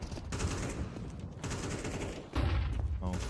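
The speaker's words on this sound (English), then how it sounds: "Fallen continues to tear it up with the AK" AK rifle gunfire in a Counter-Strike match rattles in dense rapid bursts, sharp automatic volleys broken by short gaps, with faint voices beneath.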